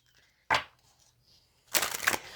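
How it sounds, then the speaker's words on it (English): Playing cards being shuffled by hand, with a short crisp riffle followed after a pause by a longer, louder burst of fluttering snaps, close and quiet otherwise. "we're just going to do all the shuffling now"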